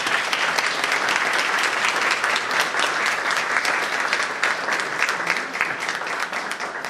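Sustained, dense applause from a crowd at a church consecration and reopening, loud and continuous from start to finish with no pauses.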